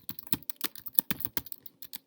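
Rapid typing on a computer keyboard while entering column titles into spreadsheet cells, a quick uneven run of close, crisp key clicks with brief pauses between bursts.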